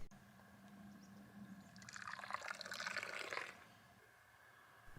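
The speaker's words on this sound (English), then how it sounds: "And now it's time for an elaborately poured coffee." Coffee poured outdoors during a hike, a soft liquid stream rising for about two seconds and then stopping, close and fairly quiet, with no speech.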